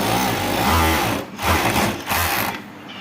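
A Jack E3 overlock sewing machine with a built-in cutter runs in loud, close, continuous bursts, briefly pausing and restarting twice.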